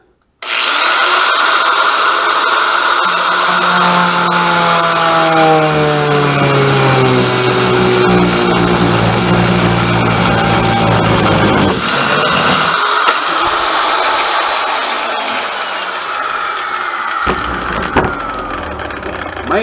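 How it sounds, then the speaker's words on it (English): Angle grinder with a new thin cutoff wheel slicing through metal for a transmission alignment pin tool, a loud high-pitched whine with shifting tones as the wheel bites and slows, sustained throughout and tapering near the end. "Got my angle grinder. Got a brand new thin cutoff wheel on there. We'll get slicing on this."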